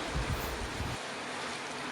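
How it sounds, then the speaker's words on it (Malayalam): Water is poured into ground prawn curry paste for Kerala konchu theeyal, giving a brief, close rushing splash that thins out after about a second, with no talking. "ഇനി നമുക്ക് പോരായ്മയുള്ള വെള്ളം ഇതിൻ്റെ അകത്തേക്ക് ഒഴിച്ചു കൊടുക്കാം"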